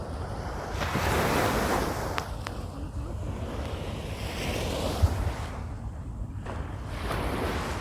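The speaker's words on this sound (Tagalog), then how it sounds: "Maalon na guys, maalon na." Rough sea waves at Burj Al Arab beach, a continuous wash of surf rising and falling with buffeting wind noise on the microphone, fairly loud and close.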